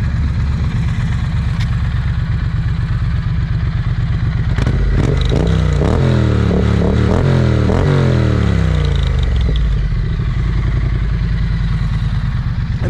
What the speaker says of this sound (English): And I do like the sound of the Street Twin.